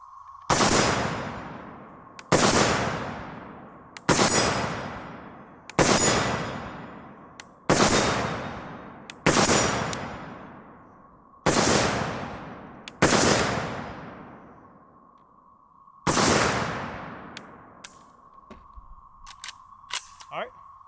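A Palmetto State Armory Krink rifle loaded with steel case ammunition fires about nine sharp, evenly spaced shots at steel targets from 50 yards, each crack followed by a ringing ping and a decaying echo, with a few faint clicks at the end.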